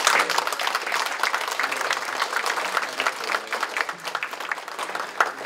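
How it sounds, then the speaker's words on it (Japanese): Audience applause thanking high school students at a public forum on reorganising technical high schools in Nagano, a dense, steady clapping crowd that holds at an even level for the whole stretch, with no voices over it. "佐々木の高校の皆さんにお礼の大きな拍手をいただきまして"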